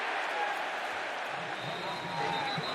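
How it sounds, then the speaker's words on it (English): Roaring stadium crowd at a college football game between Missouri and Oklahoma, a dense sustained wash of screaming and cheering at steady loudness with no clear breaks. "Crowd screaming."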